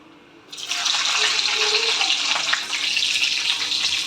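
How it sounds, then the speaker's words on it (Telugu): Green chillies drop into hot oil already seasoned with cumin and a dried red chilli, and a loud, steady hissing sizzle starts suddenly and keeps going. "ఇప్పుడు పచ్చిమిర్చిని కూడా వేసుకుందాం"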